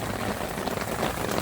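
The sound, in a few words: rain falling while camping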